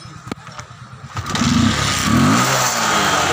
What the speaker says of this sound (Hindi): अभी साइलेंसर फिट हो गया तो इसका हम देखते हैं चालू करके आवाज़ आता कि नहीं पहले जैसे